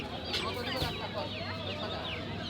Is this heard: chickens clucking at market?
yes